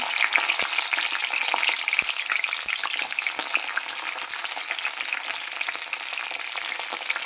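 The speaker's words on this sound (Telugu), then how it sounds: "వెల్లుల్లిపాయలు పచ్చిమిర్చి ఇలా బాగా వేగిన తర్వాత" Garlic and green chillies sizzle and fry steadily in hot oil, a continuous bright crackle with scattered sharp pops, close and fairly loud, with no voices.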